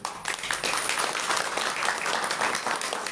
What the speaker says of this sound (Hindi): बजाओ अपने लिए ताली